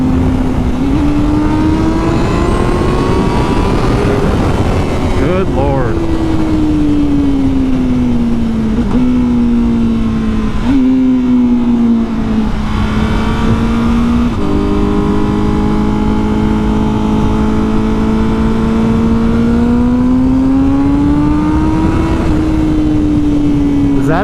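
A Honda CBR1000RR-R Fireblade SP motorcycle accelerates hard, its engine note climbing steeply and dropping at each upshift through several gears, loud and close throughout, with the rider briefly exclaiming over it.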